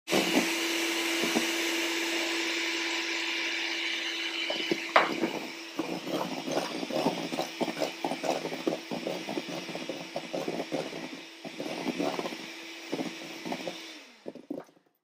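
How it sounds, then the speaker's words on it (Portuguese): An electric mixer beats meringue for a flourless chocolate cake, a steady close motor whine that turns into rhythmic knocking and whirring as the beaters work the bowl, then stops at the end. "E agora a gente vai bater de novo até obter um ponto bem firme."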